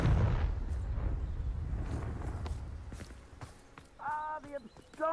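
The Confringo fire spell in the video game Hogwarts Legacy bursts out with a loud whoosh and blast at the start, then fades into crackling and scattered thuds before a voice speaks near the end.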